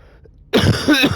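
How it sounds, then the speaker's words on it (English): A single person coughs loudly and close up, a sudden harsh burst with throat clearing after a quiet moment, heard alone without talk. "Couple coughs."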